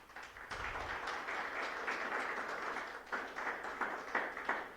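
A church congregation at a Sunday service claps together, a faint, distant wash of many hands sustained throughout with a few sharper bursts near the end.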